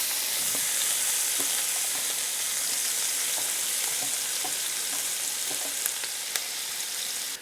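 Vegetables hit hot bacon fat in a pan with a loud, continuous sizzle and crackle, with occasional stirring clicks and no talking.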